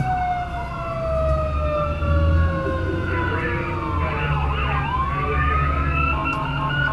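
Wailing emergency sirens from fire rescue and ambulance vehicles arriving at a scene, several overlapping tones sweeping up and down over a steady engine rumble, loud and close throughout.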